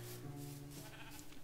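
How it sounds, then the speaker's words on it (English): A sheep bleats in the Minecraft video game, a short wavering call repeated over a steady background hum, fairly clear and alone without talk. "Oh my god, I've got a sheep in here."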